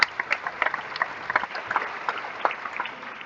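An audience applauds a student dance performance at a Deeksharambham 2021 school event, a short burst of scattered, uneven clapping from a small crowd, moderately loud and close.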